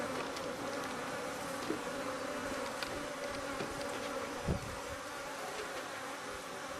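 Honey bees swarm around an opened hive during an inspection, a steady dense buzzing drone with individual bees passing close by, and one brief louder knock or scrape partway through.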